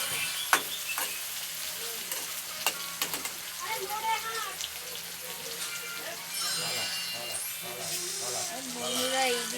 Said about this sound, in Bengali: পেঁয়াজ আর তেজপাতাটা লাল লাল করে ভাজা হবে